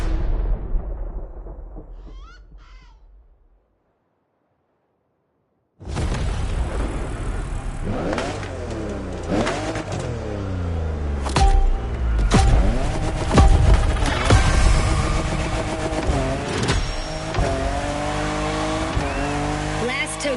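2021 Toyota Super Drift Edition drifting in a racing video game, engine revving up and down with tire squeal after a brief fade to silence, loud and continuous with repeated throttle swells.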